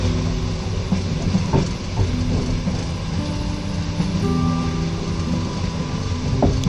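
Passenger train wheels clacking over rail joints on a long journey across Russia: a steady, close rumble with soft recurring knocks, heard from inside the carriage with no voices.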